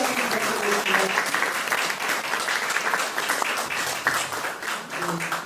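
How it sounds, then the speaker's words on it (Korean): Sustained applause from an audience at an outdoor Democratic Party supreme council meeting at the Ganghwa Peace Observatory in Incheon, a steady wash of clapping lasting the whole stretch with no pauses. "다시 한번 뜨거운 격려의 박수 부탁드리겠습니다"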